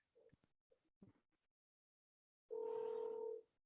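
Short bursts of faint speech fade to silence, then a steady telephone dial tone sounds alone for about a second during a call, a clean, even two-pitch hum that stops abruptly.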